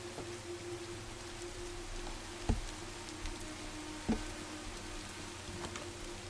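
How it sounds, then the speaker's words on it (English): Rain falling in Minecraft, a soft continuous patter with a couple of louder isolated taps, steady and moderately quiet with no talking. "uh-oh, there's rain."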